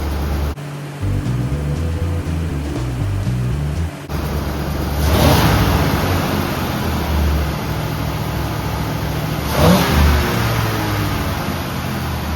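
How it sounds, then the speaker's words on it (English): A 1990 Dodge W250 Power Ram truck's engine runs in a broad, rumbling roar, with two sharp revs swelling and fading, heard alone. "I'm gonna go inside and rev it up and see what happens."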